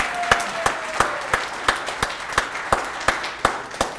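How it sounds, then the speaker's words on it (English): Rhythmic clapping at a Sankofa celebration honoring Dr. Eugene Herrington: sharp, evenly spaced claps repeat roughly three times a second, steady and fairly close, with no talking over them. "Give him another big round of applause"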